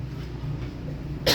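One short, sharp human cough bursts out near the end, close and loud over a steady, murmuring indoor background.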